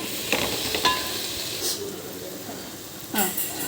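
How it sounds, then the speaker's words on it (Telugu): Finely chopped tomatoes cook in a pan for chicken pulao, giving a steady soft sizzle with a few sharper stirring scrapes and clinks, heard close. "ఇప్పుడు టమాటో వేసాము టమాటోని చక్కగా మగ్గించుకుందాం త్రీ టమాటోస్ ఫైన్లీ చాప్ చేసాము"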